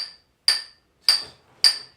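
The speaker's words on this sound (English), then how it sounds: "They're going to keep drilling like this until their hand hits the wall." A miner hand-drilling blast holes in rock by hammering a steel drill, three sharp ringing metallic strikes at an even, unhurried pace, close and clear with silence between blows.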